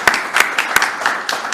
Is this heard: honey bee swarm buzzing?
no